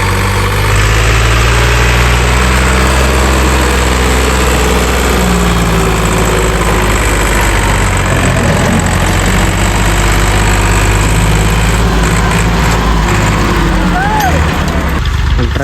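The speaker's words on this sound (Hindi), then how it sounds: "ट्रैक्टर का आगा खड़ा है और ये ट्रैक्टर यहीं खड़ा है, आगा उठाया हुआ है और ट्रैक्टर खड़ा है।" A tractor's engine idles loudly and steadily, a continuous low rumble with knocking vibration during a stunt with the front end lifted, and faint voices come through underneath.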